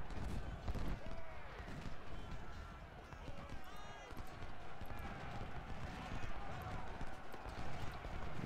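Cavalry horses galloping in Ultimate General Civil War, a busy patter of hoofbeats under a dense battle roar with scattered gunfire and faint whinnies, steady and moderately distant throughout.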